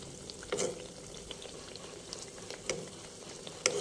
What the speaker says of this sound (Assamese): আৰু ভাজোঁতে একেবাৰে ল' ফ্লেমত ভাজিব।